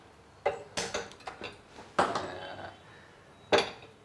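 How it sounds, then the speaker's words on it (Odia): A washed kadai is set down on a gas stove with several sharp metallic clanks and knocks, spaced irregularly and fairly close, in an otherwise quiet kitchen. "ଧୁଆ ହେଇଥିବା କଡ଼େଇଟିକି ମୁଁ ବସିଦେଲି ବର୍ତ୍ତମାନ ତା ଉପରେ"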